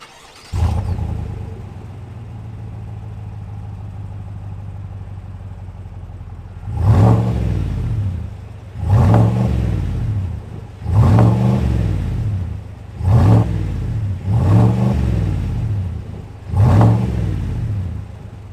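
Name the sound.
V8 truck engine revving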